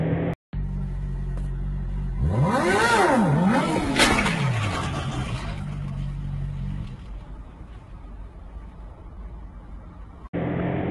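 Motorcycle engine revving up and down in rising and falling sweeps, loud and close over a steady idle rumble, with the throttle blipped several times before settling back to idle.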